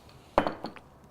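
A spoon clinks against a dish of apple and cinnamon overnight oatmeal, one sharp close tap followed by a couple of softer light knocks in a quiet room.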